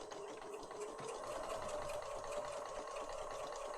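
A sewing machine stitches through paper in a steady, even whir of rapid stitching, close and continuous with no pauses.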